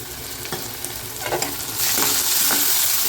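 Tomatoes sautéing with onions and a pinch of asafoetida in a pan, stirred with several spatula scrapes over a sizzle that swells louder and brighter halfway through, close, with no talking.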